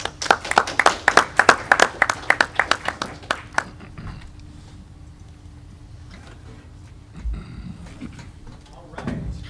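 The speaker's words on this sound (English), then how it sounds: "We give one more round of applause." An audience claps after a panel talk on great presidents, a loud close burst of applause that lasts a few seconds and then dies away into quiet room murmur and faint movement.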